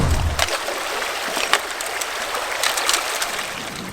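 Creek water tumbling over rocks in a gold-bearing gully in Canada, a steady close rushing burble with small splashes and trickles throughout, no voices.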